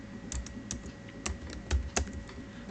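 Typing on a computer keyboard, a quiet close run of irregular clicking keystrokes over faint background hum.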